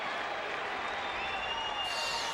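Boston fans in a crowd of over 37,000 at an Oakland baseball game, a steady roar with scattered cheering and whistles, broad and continuous throughout.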